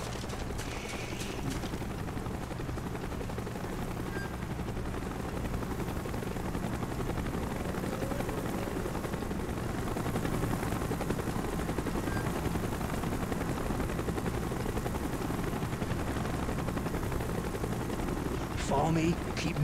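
A helicopter drones steadily in a Call of Duty Black Ops mission while bursts of gunfire crackle around it, and voices call out over the continuous rotor noise.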